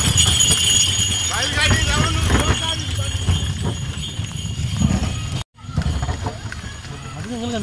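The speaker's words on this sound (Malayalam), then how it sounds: "പുറകെ ഒരു കാളവണ്ടിയാണ് വരുന്നത്" A bullock cart passing at a busy bazaar, its hooves clopping in a steady rhythm under nearly constant talk, with crowd noise around it and a brief dropout near the end.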